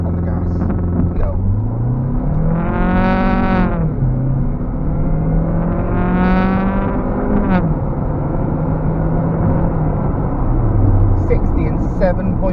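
A Volvo 2.0T engine revs hard from a brake-held launch through rising harmonic sweeps, shifting up twice as it accelerates, with a steady low rumble throughout.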